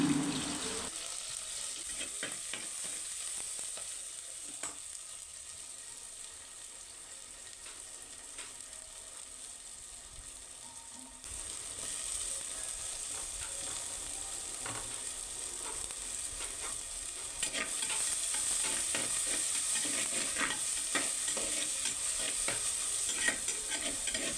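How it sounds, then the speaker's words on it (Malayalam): Ingredients sizzle and crackle steadily in hot coconut oil while being stirred, the frying growing slightly louder partway through, with occasional scrapes and no talking. "വെളിച്ചെണ്ണ ചൂടായി വരുമ്പോൾ നമ്മളതിലേക്ക് വേണ്ടുന്ന ചേരുവകളൊക്കെ ഓരോന്നോരോന്നായിട്ട് ഇട്ട് കൊടുക്കുകയാണ്"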